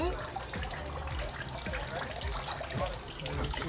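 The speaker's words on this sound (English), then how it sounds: "Trader, if you can turn the fresh water on, that'd be top notch" Fresh water runs through a tank flush mechanism with a faint, continuous trickle and gurgle, with small splashy pulses throughout.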